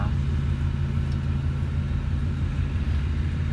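A Farmall 1456 tractor chugs slowly along a farm road at walking pace, a steady low engine rumble close by with no pauses.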